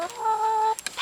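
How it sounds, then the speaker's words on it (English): Backyard chickens named Lemon, Pepper, Licorice and Ginger make a drawn-out, close vocal call lasting most of the second, followed by a few short clucks. "These are our chickens, Lemon,"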